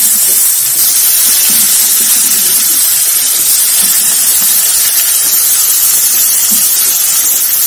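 Carrots frying in a pan give a loud, continuous sizzle, an even bright hiss that fills the whole stretch without pause and sits close to the listener.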